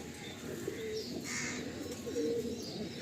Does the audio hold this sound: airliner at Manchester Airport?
no